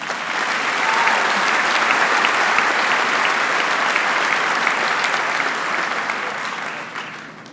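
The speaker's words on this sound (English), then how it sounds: "please join me in honoring her with a round of applause" A graduation ceremony crowd at a high school commencement applauds the valedictorian, a broad, even wash of many hands clapping, loud and sustained for over seven seconds before easing slightly at the end.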